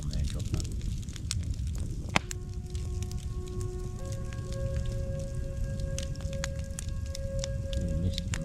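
An outdoor campfire crackles steadily, with scattered sharp pops over a constant hiss and a thin, sustained whistling tone rising through the middle, all close by.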